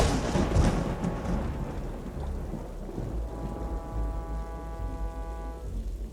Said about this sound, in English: The rain fell heavy